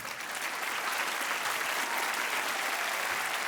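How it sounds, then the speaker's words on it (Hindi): A game-show studio audience applauds loudly and steadily, a dense wash of clapping that fills the whole stretch without a break. "तालियां बजती रहनी चाहिए।"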